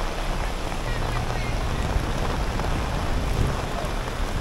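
Heavy rain pours down over a market in Nha Trang, a dense steady roar of downpour on surfaces with no voices.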